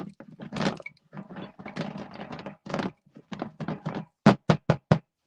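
The lid of a container is rattled, giving a stretch of close, uneven clattering followed by four sharp, evenly spaced knocks.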